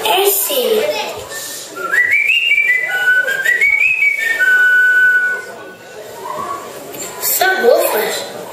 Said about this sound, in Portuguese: Não sabe assobiar? Eu sei, mas é só quando assobio bem.